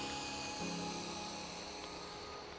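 An RC helicopter rotor whines steadily as the small craft comes in to land on a low battery, a continuous buzzing hum with a slight pitch dip, nearby and moderately quiet.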